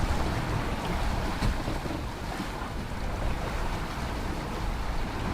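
A sailboat running under spinnaker at sea, a steady full rush of wind, water and hull noise with heavy wind buffeting on the microphone, continuous and loud, no voices.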